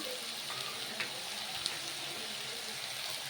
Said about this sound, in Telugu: ఇదిగోండి సొరకాయ టమాటా వేసిందండి.